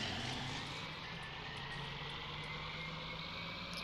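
John Deere 4440 tractor in Farming Simulator 19, a low, steady engine drone with a faint high whine, quiet and continuous with no talk.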